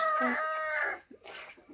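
Chickens on a poultry farm call close by: a loud, drawn-out crow-like cry, then a few short, quieter clucks.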